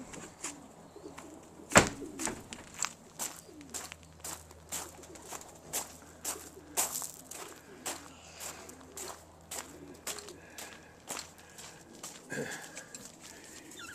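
Young pigeons in a loft give soft, low cooing and rustling, with repeated faint taps and scuffs at an irregular rhythm throughout, fairly quiet and close.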